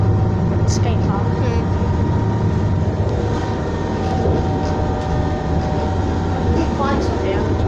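A Class 221 train runs with a loud, constant rumble and rattle of the carriage from inside, a dense roar filling the whole span with faint high squeaks and no clear talk.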